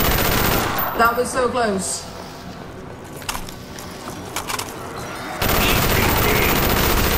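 Bursts of gunfire in Call of Duty: Black Ops Zombies on the Kino der Toten map, loud shots clustered at the start and again at the end, with a quieter stretch of scattered sounds in between and a voice speaking briefly.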